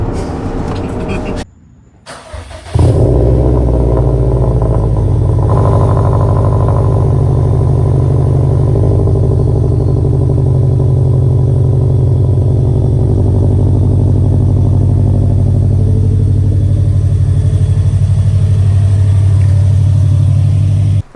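A 2017 Subaru WRX STI at Stage 2 with an Invidia catless divorced downpipe idles and drones loudly at close range, a deep, steady, throbbing exhaust rumble after a brief quiet start, with people talking over it.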